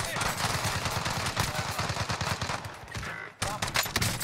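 Rapid automatic gunfire in Call of Duty Warzone, a MAC-10 submachine gun among the weapons, loud dense bursts almost without pause, a brief drop near the end before shooting resumes.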